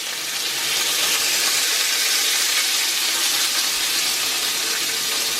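Bacon frying in a cast iron pan, giving a loud, close, steady hissing sizzle that holds evenly throughout with no speech.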